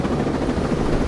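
Helicopter in the military shooter Ghost Recon Breakpoint: a steady, loud rotor thrum and engine drone heard close and continuous for about a second, with no talk over it.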